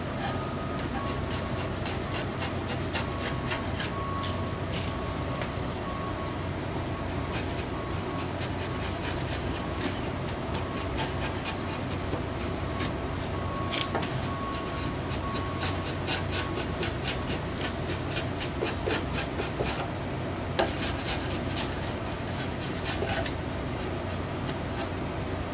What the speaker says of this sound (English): Shaving off some of the heavy glue to help save the machine blades when I run it through the planer.